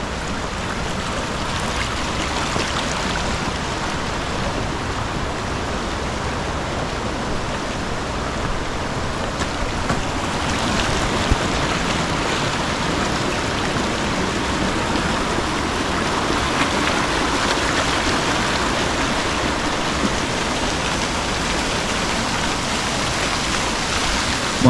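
A small mountain stream flows beside a walking trail near Old Manali, Himachal Pradesh, giving a steady, even wash of running water with no voices.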